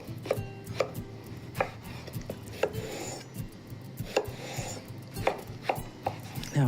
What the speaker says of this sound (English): let's cut in slices